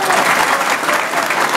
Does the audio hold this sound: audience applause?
yes